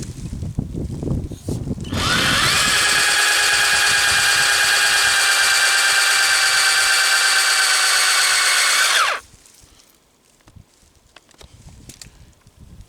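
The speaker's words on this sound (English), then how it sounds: "Then here we have our 7/16 drill bit." A loud, steady high-pitched whine of a 7/16-inch drill bit boring into a birch tree runs for about seven seconds, starting abruptly and cutting off sharply, with quieter handling noise before and after.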